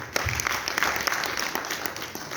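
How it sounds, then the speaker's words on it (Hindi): An audience claps for journalists at a ceremony, a dense steady applause of many hands heard from a moderate distance and holding even for a couple of seconds. "उनके लिए तालियां बजाएं"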